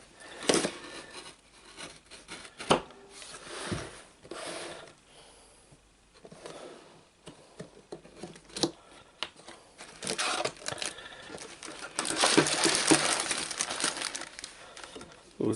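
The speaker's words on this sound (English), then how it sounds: "let's get this open with a knife" A knife slicing and tearing through a cardboard LEGO set box, packaging crinkling and rustling in irregular bursts, with a louder stretch of scraping and tearing near the end.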